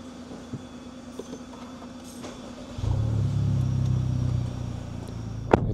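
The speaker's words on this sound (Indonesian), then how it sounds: "Yuk kita hidupin mobilnya." A Honda Civic Type R fitted with a full exhaust system starts up, its engine catching into a low, steady idle rumble partway through, preceded by quiet background hum and ending with a sharp click.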